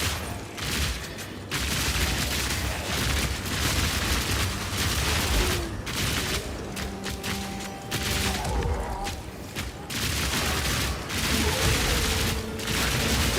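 Rapid bursts of crossbow fire from a Path of Exile 2 Witch Hunter's repeating weapon, a dense loud barrage of overlapping shots and impacts that carries on almost continuously with a few brief pauses.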